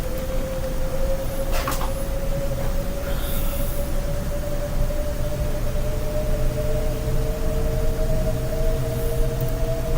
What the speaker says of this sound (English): What train was that?